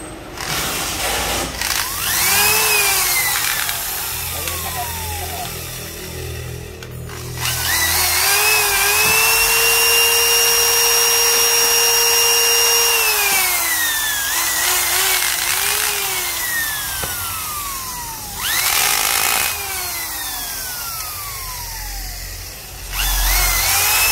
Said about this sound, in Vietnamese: búa điều tốc đầy đủ, đầu kẹp 10 ly, nó là 430W